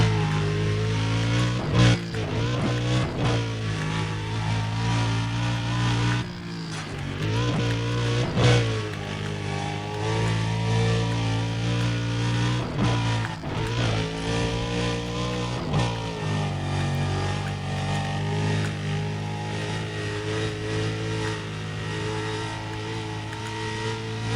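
Race car engine screaming at close to 400 km/h in the video game Need for Speed: Undercover, a loud, sustained high-revving drone with shifting pitch and brief dips as gears change, steady throughout with no talk.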